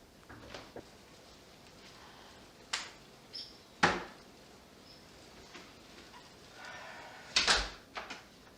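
A woodpecker pecks at a wooden outdoor door, giving a few sharp, scattered knocks and brief bursts of rapid tapping over a quiet background, with no talking.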